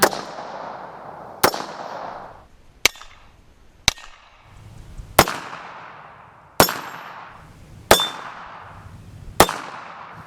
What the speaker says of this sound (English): let's have some fun, shoot some of those swingers real quick